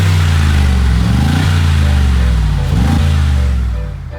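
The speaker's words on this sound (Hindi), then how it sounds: "ये भाई स्टॉक एग्जॉस्ट की आवाज़ है" Stock exhaust of a Mercedes G63 G-Wagon with a 577 bhp engine, revved hard at close range: a loud, continuous roar with two sharp rising-and-falling throttle blips, then easing off near the end.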